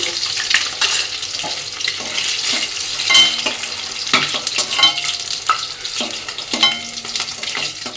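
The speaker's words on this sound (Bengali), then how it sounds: "ডিমগুলো সব ভাজা হয়ে গেছে" Eggs fry in hot oil in a pan, a continuous crackling sizzle broken by sharp clinks and scrapes of a utensil moving them around, close and fairly loud.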